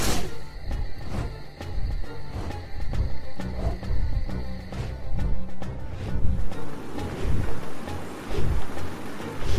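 Steady roaring wind with low rumbling gusts and a watery, surf-like wash, sustained and fairly loud throughout, no voices.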